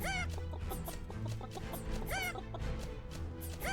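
Chickens cluck repeatedly in a real-time micro-strategy roguelite game, rapid overlapping clucks and squawks over a steady game music bed.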